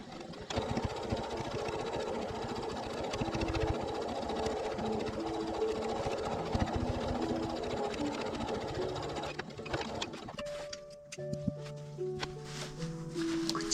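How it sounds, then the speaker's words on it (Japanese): A sewing machine stitches the top opening of a four-pocket fabric bag, whirring steadily at close range before stopping, followed by quieter handling and faint tonal sounds. "でこの上の口を縫っていきます。"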